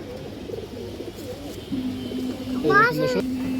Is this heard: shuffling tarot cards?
no